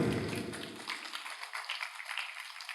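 An audience at an outdoor religious gathering for a mosque inauguration near a gold mine applauds. The clapping is a dense, distant wash that fades gradually over a few seconds, with no talk over it.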